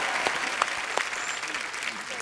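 A studio audience at a comedy talk show applauds for a guest singer. The clapping is dense and continuous throughout, with a few sharper claps standing out.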